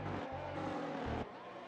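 Formula 1 cars in a racing game, in a tight pack fighting for fifth place at the Spanish Grand Prix, with a steady high engine whine and gear-change dips, heard from the cockpit.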